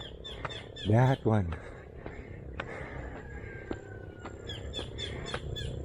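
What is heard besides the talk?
kingfisher call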